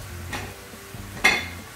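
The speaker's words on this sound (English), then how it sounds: "all this ground beef into our pan, and then we're gonna cook it, and we're gonna wait until it's completely brown" Ground beef browns in a pan for a hamburger casserole, with a low sizzle under scraping stirs and two sharper scrapes of the utensil against the pan, close and moderately loud.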